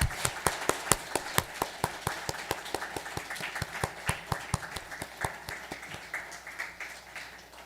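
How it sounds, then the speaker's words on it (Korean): Church congregation applauding during a Sunday worship service, a steady rhythm of distinct, fairly close hand claps that lasts throughout and slowly thins toward the end, with no talking over it. "우리 다시 한번 큰 박수 하겠습니다."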